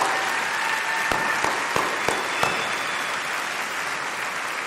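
Applause for a graduate at an awards ceremony: steady, dense clapping from a large seated audience in a hall, moderately loud and even throughout, with a few sharper individual claps standing out.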